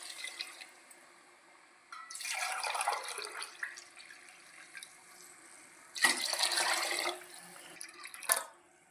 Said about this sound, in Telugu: 2 లోటాల నీళ్ళు అయితే పోస్తున్నాను